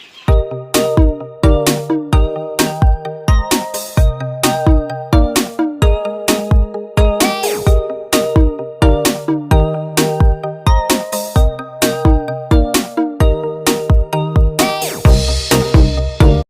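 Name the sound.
phone ringtone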